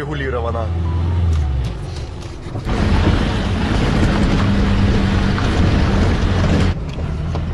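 A ZAZ Zaporozhets car driving in second gear, loud steady engine drone and road rumble with rattling mechanical noise, heard from inside the cabin and rising in intensity partway through.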